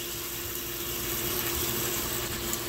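A DEKOPRO 1/3 HP submersible utility sump pump running at the bottom of a pit lined with river rock, giving off a steady, even motor hum with a constant whirring drone and no breaks.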